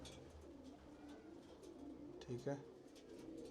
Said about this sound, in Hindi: ये जोड़ों वाले मैन ब्रीडर कबूतर हैं सभी